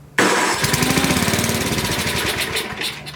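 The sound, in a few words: $50 snow blower engine being started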